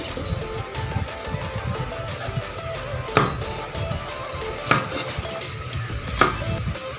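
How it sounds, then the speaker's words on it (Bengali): A knife chops okra into pieces on a board, a few distinct sharp knocks spaced a second or so apart over a busy kitchen background. "সবগুলো ভেন্ডি আমি এভাবে কেটে নিব"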